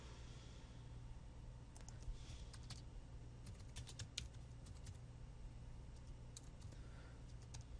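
Typing on a computer keyboard, scattered bursts of light key clicks at moderate distance over a steady low hum, no talking.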